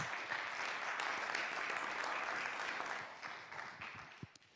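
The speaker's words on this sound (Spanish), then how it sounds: "lo recibimos con un fuerte aplauso también a John Atkinson" An audience applauds to welcome John Atkinson, a speaker at an artificial intelligence community launch event in Chile, with steady dense clapping that fades toward the end.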